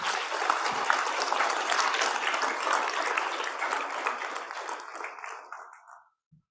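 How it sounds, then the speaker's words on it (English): Conference audience applauding panelists at a closing plenary session, a sustained, even wash of many hands clapping that tapers and stops abruptly near the end. "a very big round of applause to our panelists"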